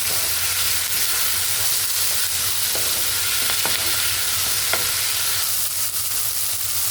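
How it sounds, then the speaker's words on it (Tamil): Steady, loud sizzling of onions and tomatoes with turmeric and salt sautéing in a pan for sambar, with occasional soft clicks of stirring and no voices. "இப்போ வெங்காயம் தக்காளி எல்லாம் நல்லா வதங்கிடுச்சுங்க"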